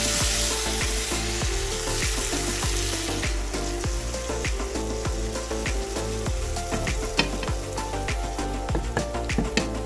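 Fish and vegetables simmer in coconut juice, giving a continuous loud bubbling sizzle with rapid crackling pops that grow sharper toward the end.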